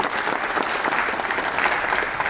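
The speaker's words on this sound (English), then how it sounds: "So another big round of applause for the ET Switch organization" An audience at a product unveiling event gives a round of applause for the ET Switch organization, a short burst of dense, even clapping with no talk over it.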